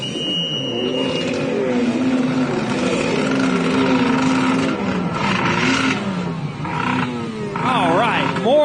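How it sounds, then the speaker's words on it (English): Two-stroke Super Jet stand-up jet skis race at an event in Paris, Texas, their engines whining and rising in pitch as they accelerate, loud and close over crowd noise and an announcer's voice. "more two-stroke Super Jets on the line"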